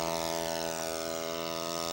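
A scale model airplane powered by an OS 70 four-stroke engine with a pump drones overhead in a steady buzzing tone rich in harmonics, moderately loud and unbroken with no voices.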